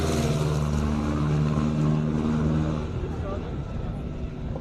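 A classic car climbs a hill-climb course, its engine loud and revving hard before easing off to a lower, rougher drone as it moves away, with spectator or commentator speech faintly underneath.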